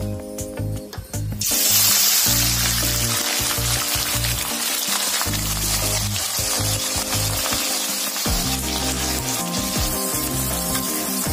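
Sliced onions hit hot oil in a pan for chicken curry, bursting into a loud, steady sizzle after a brief quieter start, with occasional stirring underneath and background music running throughout.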